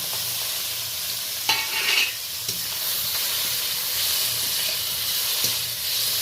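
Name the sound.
shrimp frying in a little oil in a wok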